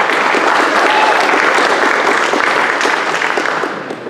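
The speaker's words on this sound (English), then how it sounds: "round of applause for our sponsors who made all this possible" An audience at a talk applauds the event's sponsors, a loud, even burst of clapping from many people that holds steady and then tapers off in the final moments.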